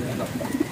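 Racing pigeons coo in low, soft, rolling murmurs close by in a rural loft, a steady, overlapping burble of birds with no talk.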